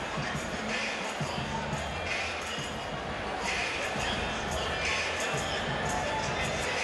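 A huge crowd fills Freedom Hall in Louisville, Kentucky, for a 2004 heavyweight boxing main event, Mike Tyson vs Danny Williams, producing a steady, dense arena roar and murmur throughout, with indistinct voices mixed in.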